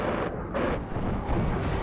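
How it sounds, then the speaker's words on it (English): 30mm aircraft cannon fire in the Cold War strategy game WARNO, shooting at a MiG-29 during a strafing run: a dense, continuous roar of loud booming bursts with no pauses across the whole moment. "Manages to get the shot with the 30mm cannons"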